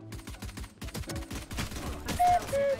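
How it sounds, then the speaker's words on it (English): Gunfire in the video game Valorant crackles in quick repeated shots, a steady string of rapid reports with some faint tonal game sounds near the end and no talking. "Who's already shooting the round hasn't even started yet."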